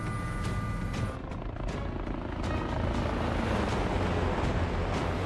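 A helicopter's rotor and engine roar close and loud, steady and unbroken throughout, with rhythmic blade chop and no talk.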